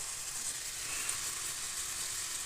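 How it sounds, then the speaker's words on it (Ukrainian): Garlic and hot peppers fry in a pan, making a steady, close hiss of sizzling oil that runs evenly throughout with no voices. "На пательню додали часничку і смажимо."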